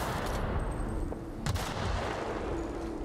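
Gunfire in the video game The Outer Worlds, sharp shot bursts with one hard crack standing out midway, over a dense, muffled layer of game noise and no talking.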